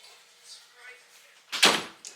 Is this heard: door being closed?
yes